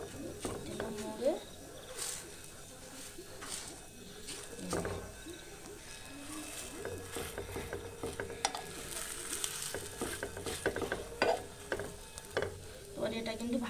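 Food sizzles steadily in hot oil for a dish made with tender coconut and coconut milk, fried until crisp, with intermittent clinks and scrapes of stirring and a voice talking over the cooking.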